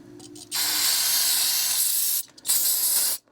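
Brake cleaner sprays in two hissing aerosol bursts onto a rifle bolt, the first long and steady, the second shorter after a brief pause, close and loud with no voices.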